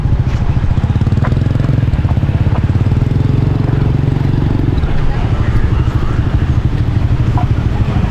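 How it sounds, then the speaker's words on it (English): Scooter engines buzz steadily through a busy District 1 street by a night food market in Ho Chi Minh City, a continuous close idling drone with passing revs and faint background voices. "And these scooters are everywhere."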